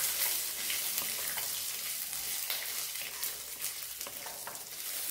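Chillies and peanuts fry in a pan of hot oil with a steady, dense sizzle, close and continuous throughout, with faint stirring.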